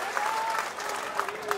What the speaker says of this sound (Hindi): ताली ताली बजाओ तो जोरदार बजाना, नहीं तो मत बजाना, जान जान लगा के ताली बजाना।